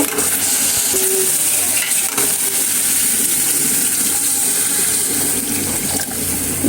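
Water goes into a hot pan of frying fish for kotkoti fish bhuna, raising a loud, steady hiss and bubbling sizzle that runs unbroken for several seconds, with a few faint clanks of the pan.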